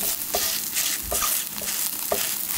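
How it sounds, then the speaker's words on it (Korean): Small Korean cabbage pancake (baechu-jeon) frying in oil in a pan, a steady close sizzle with soft stirring and scraping touches recurring about once a second. "앞뒤를 노릇노릇하게 구워주시면 돼요"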